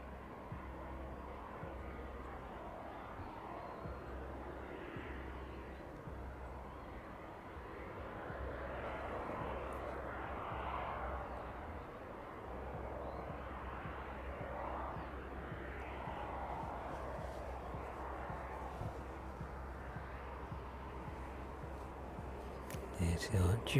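A Maersk aircraft passing high overhead near East Midlands Airport at about 5,800 feet, a faint, steady distant drone holding for the whole stretch with a slight swell midway and no voices.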